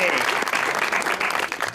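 A TV studio audience gives a short burst of lively applause to welcome a Sufi singer onto a show, with a voice speaking over the clapping.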